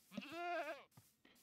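A single wavering goat bleat from Minecraft sounds close and clear, followed by a couple of soft clicks.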